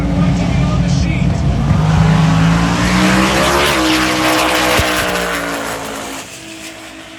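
A Nissan GTR launches on a drag strip at TX2K, its engine note climbing through the gears with a brief tire squeal before the roar fades into the distance, with voices in the background.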